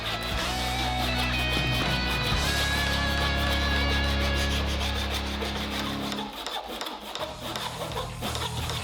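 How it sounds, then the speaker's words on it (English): Hand sawing of fret slots in a wooden guitar fretboard using a template and a miter box fretting jig for a 25-inch scale. It gives a steady, close rasping stroke sound that continues without a break. "I'm using this template and this miter box fretting jig."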